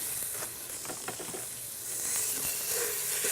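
Ground beef cooks in a pan of meat sauce with a steady, airy hiss and sizzle, some soft crackles throughout, swelling slightly louder toward the end.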